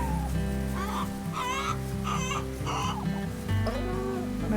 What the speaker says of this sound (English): My red hens